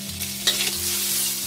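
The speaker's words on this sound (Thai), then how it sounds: "เราจะค่อยๆเกลียวให้น้ำมันหมูของเราออกมานะคะ" Pork fat rendering in a home wok over medium heat, giving a continuous close sizzle with a steady low hum and a few sharp stirring scrapes and clacks, no voices.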